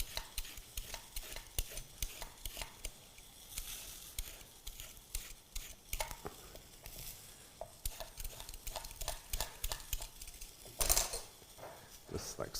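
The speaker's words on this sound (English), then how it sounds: "So again, peel the outside of the carrot." A home-grown carrot is peeled, giving quiet repeated scraping strokes at close range, irregular and fairly soft, with no talk.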